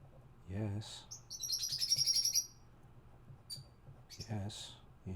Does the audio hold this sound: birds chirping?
yes